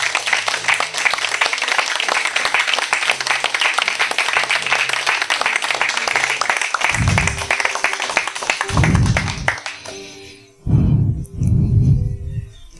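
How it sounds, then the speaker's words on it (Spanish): A church congregation claps and applauds together in a dense, loud, steady wash of hand claps that fades out near the end, followed by a few low thumps. "Si quieres aplaudir, apláudale."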